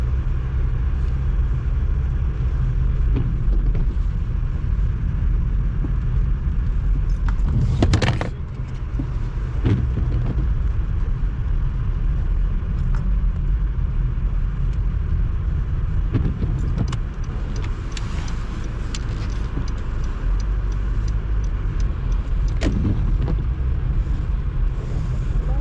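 A car drives through a snowstorm on Montreal streets, its body swaying on the slippery road. A steady loud rumble of engine and tires is heard from inside, broken by occasional thumps and clunks.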